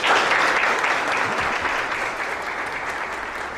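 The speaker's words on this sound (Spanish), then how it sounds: "démosle la bienvenida al doctor Quiroz con un fuerte aplauso." Audience applause welcoming a doctor to the stage at a holistic health talk: loud, dense clapping that holds steady for the whole stretch and eases only slightly toward the end.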